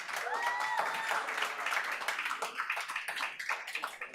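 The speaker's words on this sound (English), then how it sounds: "please do not clap" An audience at a public meeting about a social housing development claps after a speaker finishes, a burst of applause that thins into scattered, uneven claps toward the end, with a brief voice early on.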